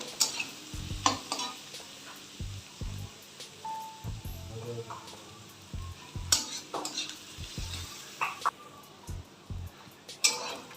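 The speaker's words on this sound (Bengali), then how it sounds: "পেঁয়াজটা আমাদের হালকা রং ধরেছে আর একটু ভেজে নেবো" Onions turning light brown in a pan for pav bhaji, with a soft sizzle under intermittent knocks and scrapes of a spoon against the metal and brief stretches of talk.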